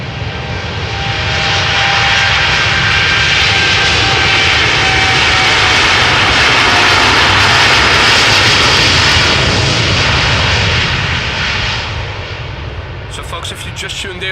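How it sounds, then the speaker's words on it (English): An airliner takes off from runway 36L, the Polderbaan, at Amsterdam Schiphol, its engines building into a broad, loud, sustained roar that holds for several seconds and then slowly fades as it moves away. "This is the Polderbaan runway 36 left, one of the two runways in use for departures."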